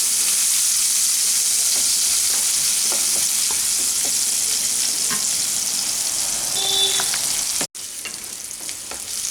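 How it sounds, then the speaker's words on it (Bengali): Chopped medium onion frying in a pan for a Bengali ridge gourd dish, giving a steady broadband sizzle with scattered small crackles and a brief dropout near the end, with no talking. "পেঁয়াজটাকে হালকা করে ভেজে নিচ্ছি।"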